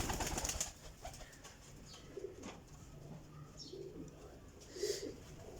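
Faint, distant cooing from a flock of flying pigeons, including golden and pearl-marked birds, comes in soft scattered calls with a louder rustle at the start and another near the end.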